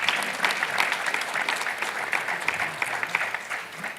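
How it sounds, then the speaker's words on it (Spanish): A conference audience claps steadily for the panelists at the close of a morning discussion session, with a dense, sustained patter of many hands and no voices over it. "Quiero pedir por favor un fuerte aplauso para todos los panelistas"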